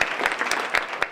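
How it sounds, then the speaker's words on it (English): Audience applause at a university Armenian studies banquet, a short burst of many hands clapping steadily and fairly close, with no talk over it. "So let's have a round of applause for Andreas Borges."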